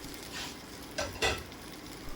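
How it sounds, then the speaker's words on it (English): Soft frying sizzle of a Spanish potato tortilla in a frying pan, with a couple of brief scraping stirs, steady and close, no voices. "scoop it back into the frying pan and cook the other side for another 5 to 10 minutes"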